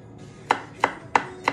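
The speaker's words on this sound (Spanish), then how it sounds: "Y lo voy a picar un poquito." A knife chops garlic on a board with four crisp, evenly spaced strikes, close and clear against a quiet kitchen background.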